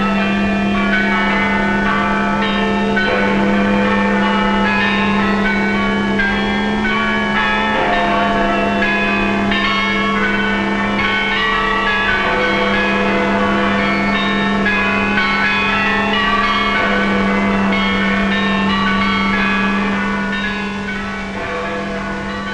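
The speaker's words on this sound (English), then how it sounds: "Now the bells rang out a song of thanksgiving," Church bells of wartime Britain peal in thanksgiving for victory, a loud, dense, continuous ringing of many overlapping strikes with a steady low hum beneath, sustained for over twenty seconds without speech.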